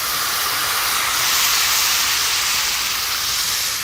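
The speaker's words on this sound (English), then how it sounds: "And I'll also add a cup of vegetable stock" Vegetable stock poured into a hot pan sizzles in a loud, steady, close hiss of steam and spatter lasting a few seconds, with no talk.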